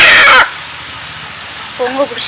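A country chicken makes a short clucking call near the end, after a burst of loud, close vocal noise at the start.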